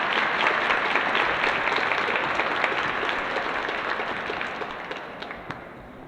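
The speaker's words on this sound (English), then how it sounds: "let's give a round of applause for our sponsors" Audience at a KIDS COUNT awards ceremony applauds the sponsors, a dense sustained clapping that starts full and slowly thins and fades over six seconds.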